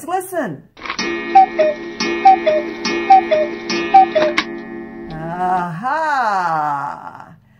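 A cuckoo clock chimes four times, its two-note calls ringing out in an even rhythm over a sustained bell tone, with people talking briefly before and after.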